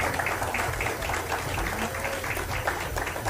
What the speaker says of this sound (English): could I have a wonderful round of applause for our students?